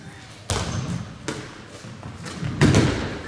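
Footballs struck at goal during goalkeeper training drills, with a few separate dull thumps of ball kicks and impacts spread out over several seconds against open outdoor ambience.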